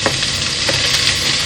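Sliced onions frying in an oiled pan for fish pulimunchi make a continuous, even sizzle up close, broken by a few faint stirring knocks.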